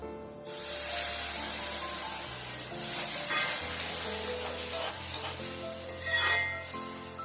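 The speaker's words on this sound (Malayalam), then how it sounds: "തിളച്ച വെള്ളമാണ് ഞാൻ ഒഴിക്കുന്നത്." Boiling water poured into a hot pan of Kerala-style prawn curry base sets off a loud, continuous sizzling hiss with stirring scrapes, close and steady throughout, briefly swelling near the end.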